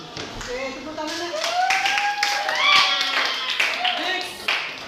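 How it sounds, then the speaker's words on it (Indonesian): A class of students claps in a classroom, quick scattered hand claps running throughout, mixed with children's voices talking and calling out over the clapping. "Oke, tepuk tangannya."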